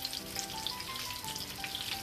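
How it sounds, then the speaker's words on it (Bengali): Pangas fish pieces shallow-frying in oil in a pan, a continuous crackling sizzle with scattered pops, fairly close and steady for two seconds, with no one talking. "মাছের দুই সাইড দিয়ে আমি হালকাভাবে ভেজে নিব 3 মিনিট 3 মিনিট করে"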